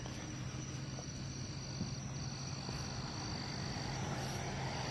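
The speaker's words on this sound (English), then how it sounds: "no matter how I turn it down, you hear every cricket." Crickets chirp at night in Florida, a dense, continuous high trill held evenly throughout with no voices, steady and moderately quiet.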